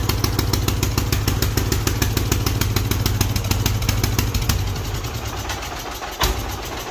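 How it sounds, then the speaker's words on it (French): The cold engine of a Wheel Horse C-160 garden tractor runs rough on choke, a loud, close, rapidly pulsing chug that stumbles briefly near the end. "s'il tourne mal, c'est parce qu'on a mis sur le starter"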